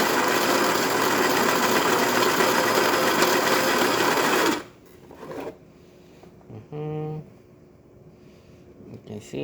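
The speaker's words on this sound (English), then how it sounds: "Right now it's grinding at a very coarse level" A Baratza Preciso coffee grinder grinds beans at a very coarse setting, giving a loud, steady, dense whirring rattle that cuts off abruptly partway through, followed by quieter sporadic noises and a short tonal hum.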